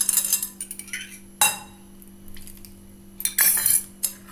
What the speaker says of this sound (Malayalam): ഈ ആക്ടിവേറ്റർ കൊഴിച്ചതിന് ശേഷം നന്നായിട്ട് തന്നെ ഇതൊന്ന് മിക്സ് ചെയ്ത് കൊടുക്കണം.